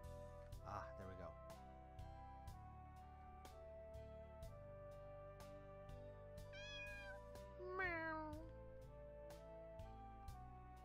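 A cat meows twice in the Greyfox video game, short rising and falling cries over a steady musical game soundtrack with regular ticking beats, with no talking over them.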